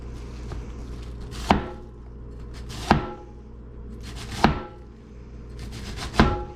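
Red cabbage being shredded finely with a vegetable cleaver on a board, four sharp, loud chops spaced about a second and a half apart, with quiet room tone between strikes.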